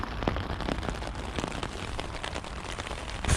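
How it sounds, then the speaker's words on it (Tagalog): Rain falls steadily on a campsite during a bikepacking trip, a dense close patter of drops striking surfaces, with scattered louder taps over an even wash. "Umuulan,"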